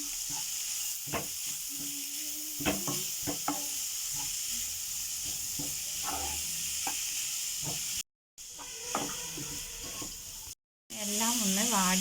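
Grated carrot is stirred into vegetables frying in a pan. A constant hiss and sizzle is broken by scraping stir strokes, while a voice talks over parts of it.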